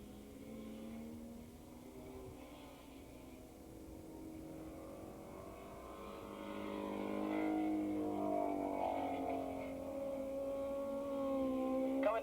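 750cc Super Street racing motorcycles at Willow Springs International Raceway in 1986 pass along the start-finish straight, their engines droning and rising in pitch as they grow louder toward the end, heard faint and distant without talk.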